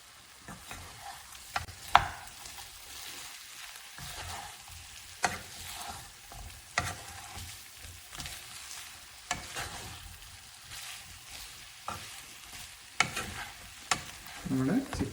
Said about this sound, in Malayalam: ശകലം പച്ച വെളിച്ചെണ്ണ ഇതിനകത്തേക്കൊന്ന് ഒഴിച്ച് ഒന്ന് ഇളക്കിയെടുത്താൽ നമ്മുടെ ചിക്കൻ തോരൻ തയ്യാർ